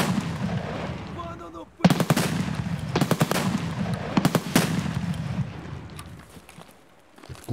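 Gunfire in the video game Escape From Tarkov: several sharp bursts of rapid shots and single loud cracks, close and punchy, with a quieter stretch at the start and near the end, and no talk over the shooting.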